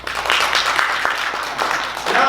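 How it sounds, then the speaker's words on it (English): Audience applause at a Valentine's Day special performance, a dense, steady spread of clapping that fills the whole stretch at moderate loudness, with some voices mixed in. "give a round of applause"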